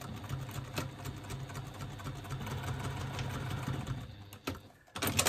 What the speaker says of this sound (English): now I'm going to stitch from the cutout corners